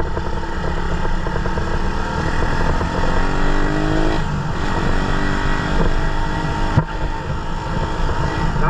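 A stock new-breed motorcycle engine runs steadily and loud up close, with a continuous rumbling idle and a slight rev partway through, with no one speaking.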